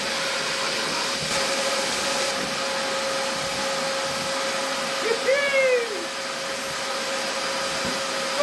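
A Shop-Vac wet/dry vacuum runs with a steady loud drone while sucking up bolts, nuts, a bottle top and nails, a brief rattle of debris rising through the hose midway.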